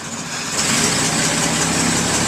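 A 1921 Paige car engine idling slow and steady, a continuous close mechanical rumble with a faint rhythmic pulse and no voices.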